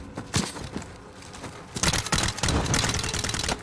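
Rapid gunfire rattles in Call of Duty: Modern Warfare (2019), scattered cracking shots at first, then dense sustained bursts that grow louder over the last couple of seconds.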